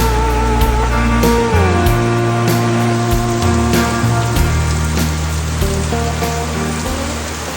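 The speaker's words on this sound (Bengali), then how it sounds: "অবশেষে বৃষ্টিতে একদম পুরো বাড়ি ঢুকে গেল" Heavy rain pours down around a house after a hot spell, a loud, unbroken wash of falling water with a steady humming drone running over it.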